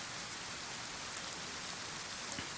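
Steady, dense video game rainfall in DayZ hisses continuously, with scattered drops pattering on a surface and no voices.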